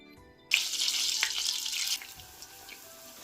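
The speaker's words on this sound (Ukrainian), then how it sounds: "Смажимо котлети на помірному вогні" Spoonfuls of meat and zucchini cutlet mixture suddenly hit a preheated oiled pan and sizzle loudly and briskly, the crackle settling into a quieter fry over moderate heat after a couple of seconds.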